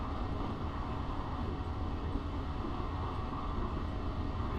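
An Amtrak F59PHI Pacific Surfliner train in the Train Simulator video game gives a steady, dense rumble of engine and rolling wheels, constant and loud throughout with no talking.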